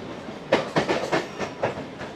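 A Mumbai local train runs along the track, heard from inside the coach. Rhythmic clickety-clack wheel beats repeat several times over the rumble of the carriage.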